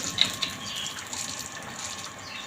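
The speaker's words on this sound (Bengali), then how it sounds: "বোতল জল ভরলাম মানে আমরা এই পাইপের জলটাই খাই কিছু বোতলে জল ভরে নিলাম" Water runs steadily from a pipe into bottles being filled, a continuous soft hiss and gush close by with a couple of faint clinks early on, no voices.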